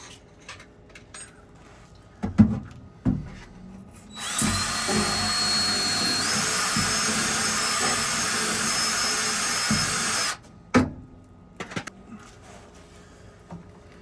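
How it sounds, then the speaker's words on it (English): A power drill with a bit bores through foam during a diesel heater install in a shuttle bus, giving a loud, steady whine for about six seconds with scattered handling knocks before and after. "I put the drill bit through the foam."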